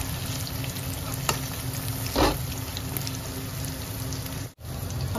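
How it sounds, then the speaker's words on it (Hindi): Jackfruit pieces fry in hot oil for a homemade jackfruit biryani, with a steady close sizzle and crackle that runs throughout, a short burst of stirring partway through and a brief dip near the end. "तो उसमें कर लेते हैं जल्दी जल्दी कटहल को फ्राई।"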